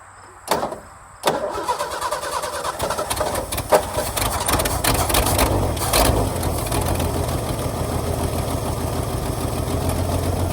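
Old Ford truck engine, unrun for about a year and fed from the fuel bowl, cranks with a couple of brief bursts, catches, then settles into a loud, steady, close-up idle.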